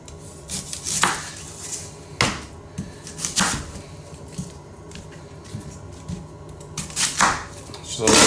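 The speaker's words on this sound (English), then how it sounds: "roughly chopping up some onions" Two onions are roughly chopped with a knife on a cutting board for a Chinese beef curry, giving a few sharp, close, irregularly spaced cuts and knocks with quieter handling between them.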